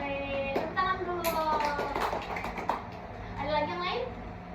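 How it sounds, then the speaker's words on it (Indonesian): Schoolchildren clap their hands in a classroom, a burst of scattered claps amid lively children's voices and chatter, moderately near. "Tepuk tangan dulu"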